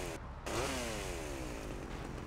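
A chainsaw in GTA Vice City, used during a snowy winter-mod mission, buzzes continuously and loudly, its engine pitch sweeping up and then gliding down as it revs.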